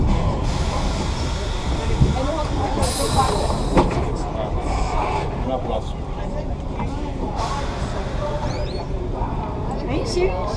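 Vintage NYC subway Holiday Nostalgia Train riding between stops, a constant rumbling roar with rattles and squeals under it, while people talk in the car.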